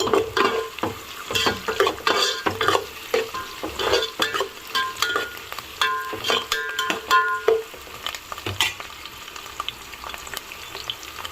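Bay leaves, coriander and mint fry in hot oil for chicken pulav, with a steady sizzle under rapid, rhythmic stirring scrapes and clinks of a spoon against the pan, close and fairly loud, with no voices.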